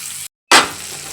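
Onions fry in hot oil with a soft, steady sizzle, cut by a brief silent gap before a louder burst of hissing that settles back to a gentle frying sound.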